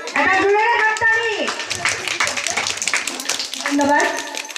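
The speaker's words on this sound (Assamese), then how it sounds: "এটা জোৰেৰে হাত তালি" Young children at a preschool celebration clap for their teacher, a brisk burst of small hands between stretches of a speaking voice at the start and end.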